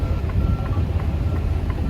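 A semi truck backs toward a low wall beside a parked Dodge Charger, its engine rumbling low while faint repeated backup beeps sound at a steady rhythm over the idle.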